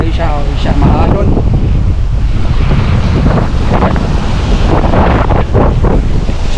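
Surf rolling onto Bulabog Beach, the windy back beach of Boracay, as a steady loud roar of breaking waves mixed with heavy wind rumble across the microphone, with faint voices in the background.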